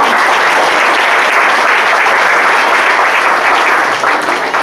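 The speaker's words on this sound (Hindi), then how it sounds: "Just you can clap hand now." A church congregation claps hands together in sustained, dense applause, loud and steady throughout with no break, a broad wash of many people clapping at once.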